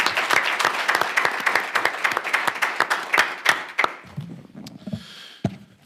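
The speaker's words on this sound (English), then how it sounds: "If I could just have a round of applause for all of them." A council meeting audience gives a round of applause, many hands clapping briskly for about four seconds before tapering to a few scattered claps and quiet.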